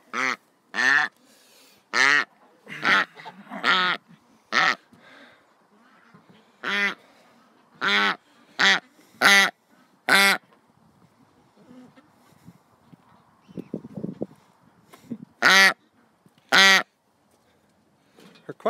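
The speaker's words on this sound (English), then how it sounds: "Her quack sounds a little better," A duck quacks repeatedly up close, loud harsh calls coming in irregular bursts, with a soft murmur of a voice in a quieter stretch.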